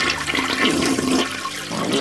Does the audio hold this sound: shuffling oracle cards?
no